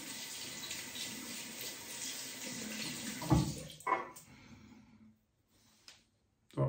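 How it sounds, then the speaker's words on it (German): A shaving brush is rinsed briefly under running tap water, giving a close, steady splashing flow. The tap cuts off around five seconds, and a few quiet knocks follow. "einfach den Pinsel kurz unter dem Wasser"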